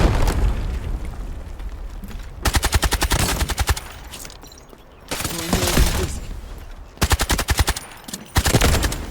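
Rapid bursts of automatic gunfire in several volleys, separated by quieter stretches, with heavy booming grenade blasts in between, loud and close, in the video game Delta Force.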